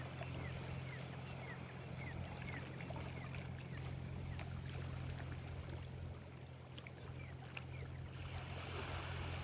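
A boat engine drones steadily on the sea during shrimp fishing, with a constant low hum and broadband water wash running evenly throughout, no voices.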